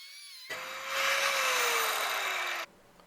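A saw cuts through a metal workshop frame clamped on a scrap board, one close, loud, harsh burst of cutting lasting about two seconds, rising in intensity before stopping abruptly.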